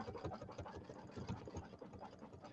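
A Kimberbell embroidery machine satin stitching runs alone in a fast, even mechanical chatter, its needle beating in a rapid regular rhythm with a low motor hum underneath.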